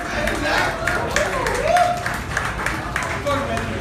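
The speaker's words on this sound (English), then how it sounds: "Guys, give a huge round of applause, everyone." Clapping and cheering from a crowd at a film success party, a steady broadband wash of hands with voices and shouts mixed throughout, fairly loud and close.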